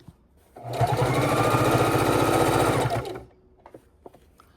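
A sewing machine stitching binding onto a quilt runs in one loud, close, fast steady whir for a couple of seconds, then stops, followed by faint handling clicks.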